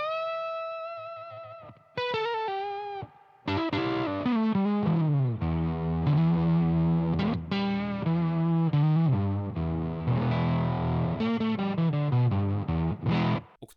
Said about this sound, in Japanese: プレスクリプションエレクトロニクスのクリーンオクターブブレンドというオクターブファズに入ります